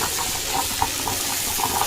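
Pan of leafy greens boiling on a home stove, giving a steady bubbling hiss with small pops and gurgles, moderately loud and close, without speech.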